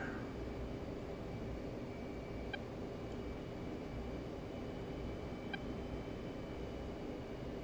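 An F-15C jet taxiing toward the runway in the DCS flight simulator gives a steady, dense engine roar that holds at an even level throughout, with a couple of faint clicks over it and no talk.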